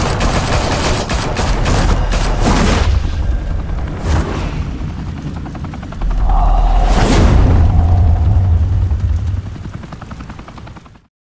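Gunfire erupts in Batman The Telltale Series as loud rapid volleys of shots crack over a thick rotor-like roar, with a sharp burst midway and a second heavy barrage before the sound cuts off abruptly.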